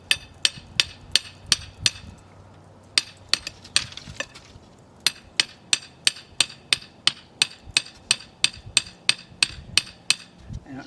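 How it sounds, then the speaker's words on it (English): Steady metallic hammer strikes drive rebar into the ground, ringing out one after another in a regular rhythm, loud and close, with a brief pause midway and no talking. "I got myself a hammer, and I'm gonna hammer this rebar in"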